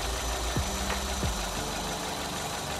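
A car engine idles steadily at about 800 RPM, a close, even, slightly knocking hum with no talk.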